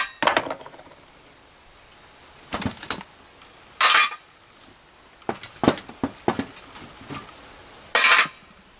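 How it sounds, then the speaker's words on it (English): Metal ash pan being pulled from a firebox cooking stove: a run of sharp metallic clanks and scrapes in separate bursts, fairly close and moderately loud, with quiet gaps between. "now I'm going to take the stove pull the ash pan out"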